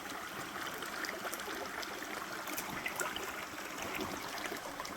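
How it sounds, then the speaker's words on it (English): River water running steadily through a drop riffle sluice box during gold panning tests, a continuous broadband rush and trickle with no pauses or talk. "So the sluice is running quite nicely."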